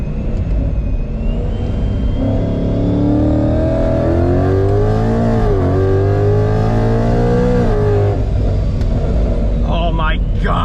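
A 700-horsepower Ford Mustang fitted with a Corsa sport exhaust revs loudly as heard from inside with the windows up, a deep rumbling idle climbing into rising, wavering revs that peak mid-clip before settling back down.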